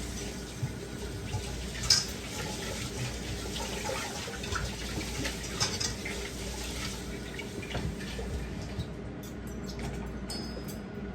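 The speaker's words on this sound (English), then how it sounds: "I'm gonna wash this rice real quick." Hot tap water running steadily into a sink while rice is washed, a constant hissing splash with small bumps and clatter of the rice being handled, close and fairly loud throughout.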